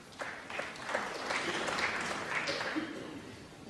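Snooker crowd at the Masters applauding a break, steady clapping that rises and holds for a few seconds with faint voices mixed in.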